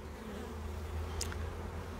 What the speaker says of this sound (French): on voit énormément d'abeilles avec des pelotes de pollen